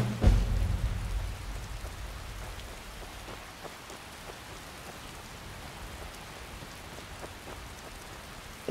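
Steady rain falls in the video game Skyrim, a continuous hiss of drops with a brief low rumble at the start that fades, then even, unbroken patter throughout, no voices.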